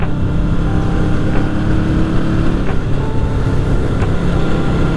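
A Yamaha XS750 motorcycle engine drones loud and steady during a ride, a continuous close rumble with no pauses and no voices over it.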